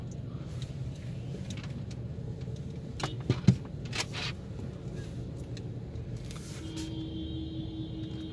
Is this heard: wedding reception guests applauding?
no